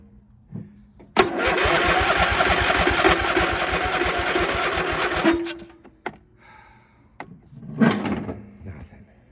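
Husqvarna YTH22V42 riding mower with choke on, engine cranking rapidly for about four seconds without catching, then stopping, followed by a few faint clicks and a short rustle.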